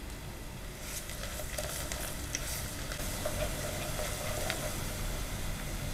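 Onions and garlic paste frying in a pan for an aloo-parwal curry, a steady broadband sizzle with faint stirring clicks throughout, close and continuous with no talk.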